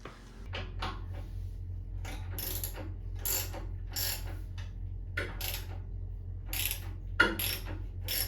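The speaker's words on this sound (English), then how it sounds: "So now I'm going to remove this bolt here to separate the 2 tanks." Ratcheting wrench turning out a bolt between the split petrol tanks of a 1997 Harley-Davidson Heritage Classic, a steady run of close, crisp metallic clicks in bursts with short pauses.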